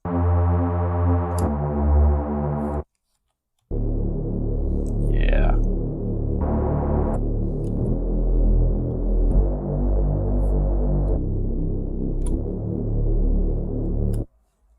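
A synth pad bass built from square and saw waves through a low pass filter plays sustained, buzzy chords in a rhythmic pattern, with a brief gap and a short spoken interjection.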